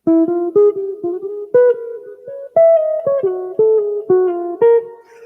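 A short plucked guitar phrase, a dozen or so quick notes in a bouncing rhythm, played alone, close and clear.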